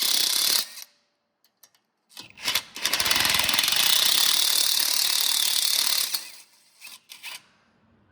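An impact gun on a Ford Explorer Sport Trac lower ball joint gives a short blip, then a few seconds of continuous loud rattling hammering before it stops. A few faint clicks follow.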